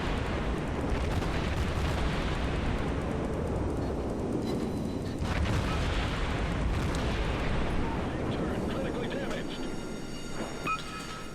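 Battleship gunfire in World of Warships: a dense, continuous roar of booming naval guns and explosions with rumbling fire, loud and sustained throughout, with no quiet gaps.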